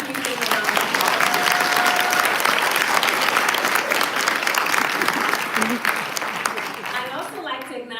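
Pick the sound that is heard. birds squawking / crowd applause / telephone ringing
crowd applause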